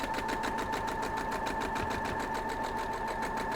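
A sewing machine stitches quilt block pieces, running steadily with a fast even needle pulse and a constant motor hum, moderately close and uninterrupted by talk.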